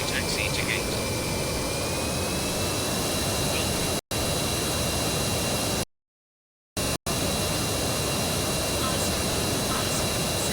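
Jet airliner engines drone in a loud, steady broadband roar as the aircraft taxis to the gate, continuous apart from brief dropouts, with radio voices speaking over it.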